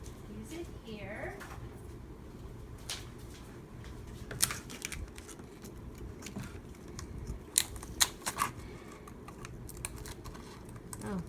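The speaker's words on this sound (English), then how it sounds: "my scissors don't want to cut through" Scissors snip through paper for a Halloween junk journal cover, with scattered sharp clicks and rustles arriving irregularly at close range, some louder than others.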